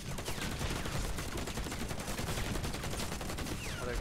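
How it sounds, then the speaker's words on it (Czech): Gunfire heard through a wall in the video game Warface, a dense, rapid stream of muffled shots and bursts, steady and moderately loud across the whole stretch. "on fakt střílí přes zeď?"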